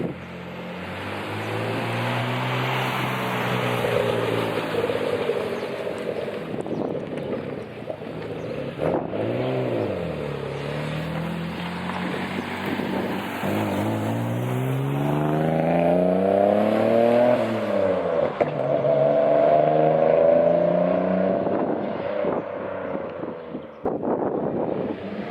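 Mitsubishi GTO sports car accelerating hard under turbo boost, engine tone sweeping up and down through several rising runs, close and loud with wind buffeting over the microphone throughout.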